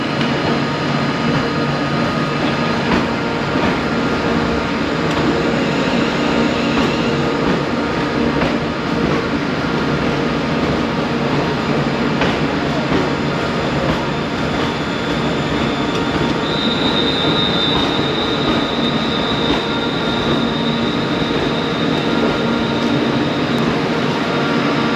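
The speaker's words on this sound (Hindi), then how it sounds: "तो हमारी ट्रेन आ रही है" A train rolls into a station platform in Birmingham, a loud continuous rumble of wheels on rails with a sustained high metallic squeal from the wheels partway through, close and steady throughout.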